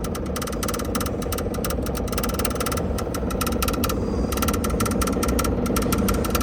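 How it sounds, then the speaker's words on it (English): An old Onan generator engine that sat unused all off-season runs after priming with a steady, loud mechanical drone and rapid rattling pulses, close by and without voices. "I'm gonna see if I can't fire up this old Onan that's been sitting all season long"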